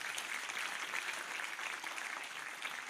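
A church congregation claps together after a sermon, a faint, steady patter of many hands from some distance, continuous without a clear start or end.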